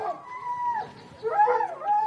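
A pack of hunting dogs shut inside a truck during a hunt gives out two wavering howls and bays, heard fairly close and without talk.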